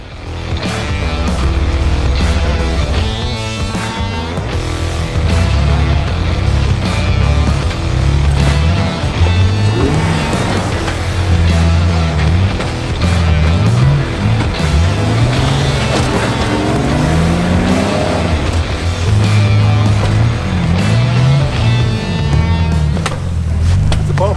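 A Jeep grinds up a steep rock ledge on a mountain trail, its engine loud and close, revving and straining in surges with tires and rock rumbling throughout.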